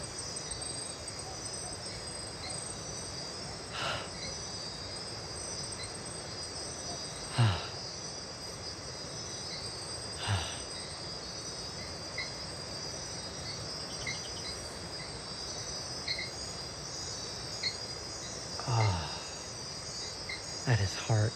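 Night jungle ambience, a dense steady wash of high insect chirping and trilling that fills the whole stretch, with a few soft low thumps and rustles scattered through and no voices.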